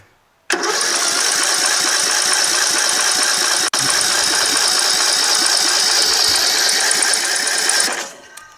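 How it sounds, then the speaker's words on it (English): An old tractor engine that is flooded with fuel is cranked by its starter, making a loud, close, steady rhythmic churning that continues for about seven seconds with one brief break before winding down. "Let's see if it turns over."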